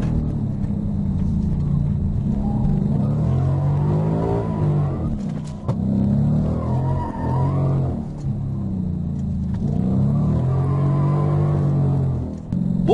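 A Ford Mustang GT engine pulls under throttle while driving at high revs, with a deep rumbling exhaust note rising and falling through repeated accelerations, close and loud inside the car, and someone talks over it.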